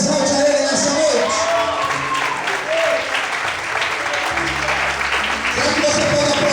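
A church congregation at an evening worship service breaks into sustained, dense applause that fills the room, while a preacher's voice carries over the clapping and low sustained musical tones sound underneath.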